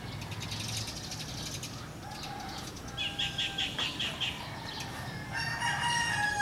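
A small flock of little birds gathers in the morning at their meeting spot, wings fluttering and chirps overlapping in a steady, busy chatter. A rooster crows faintly in the distance, with outdoor ambience throughout.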